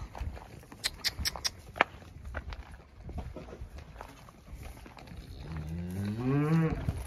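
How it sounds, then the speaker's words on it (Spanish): Cow on a cattle ranch: a drawn-out, loud moo near the end, preceded by scattered hoof clatter, knocks and faint background voices. "La vaca."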